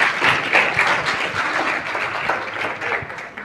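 An audience at a sermon or talk clapping, a dense sustained round of applause that gradually thins out toward the end.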